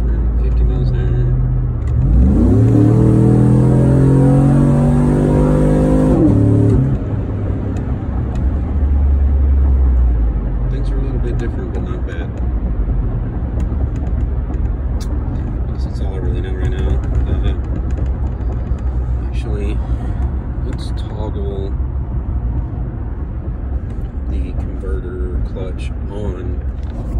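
A car with a 6L80 automatic transmission accelerates at wide open throttle with a loud engine roar rising in pitch and revs climbing, then dropping into a steady drone as the pull continues. Someone talks over the engine noise.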